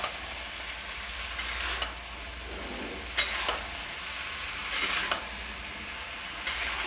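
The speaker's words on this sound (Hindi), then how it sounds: "चना डाल के अच्छे से मिला देंगे" Chickpeas being stirred into a frying onion mixture in a pan for Bihari ghugni, a soft sizzle broken by several sharp scrapes and clinks of a spoon against the pan, no voices.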